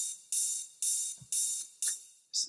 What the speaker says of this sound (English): the ride sounds like this